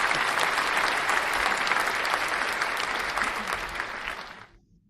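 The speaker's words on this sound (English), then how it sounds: "let's give Alex a round of applause." A round of applause for a trader named Alex during a live gold trading session, a steady dense clapping crowd that carries on for several seconds before fading out at the end.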